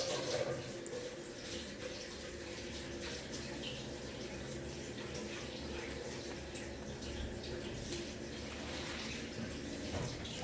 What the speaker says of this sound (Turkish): Ben elimi yıkayacağım ya.